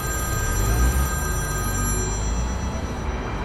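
A telephone rings with an unwanted incoming call, a steady electronic ringing tone that holds at an even, fairly loud level over low background rumble for the whole stretch.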